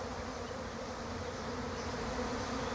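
A dense, steady buzzing of many honeybees in a swarm caught in a swarm trap on a tree, constant and close, with no voices.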